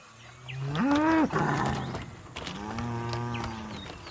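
Carabao (water buffalo) hitched to a cart lowing twice, a loud rising moo followed by a longer, steadier bellow, close and clear with no talk.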